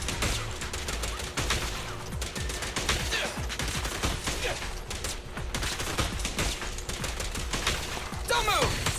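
Continuous shooting in the action game Zenless Zone Zero, a dense run of rapid shots rattling steadily throughout, loud and close, with game effects layered in and a voice talking underneath.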